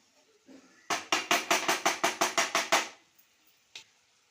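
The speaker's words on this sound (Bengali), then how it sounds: "হলুদ দিয়ে এখন আমি এটা আবার একটু নাড়িয়ে দেব।" Papaya curry with turmeric being stirred in a pan, about ten loud, evenly spaced scraping strokes close up, followed by a short pause and one last faint scrape.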